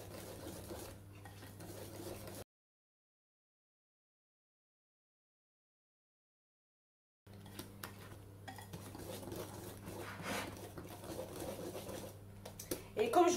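Ingredients are stirred in a small salad bowl with a utensil, giving soft repeated scraping and clinking, interrupted by a gap of silence; a hum sits underneath.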